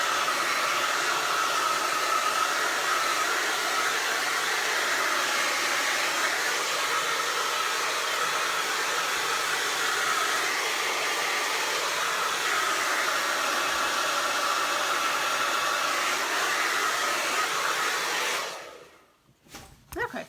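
A hair dryer blowing steadily up close to dry white paint on a board, a loud continuous roar that runs for about eighteen seconds, then cuts off abruptly.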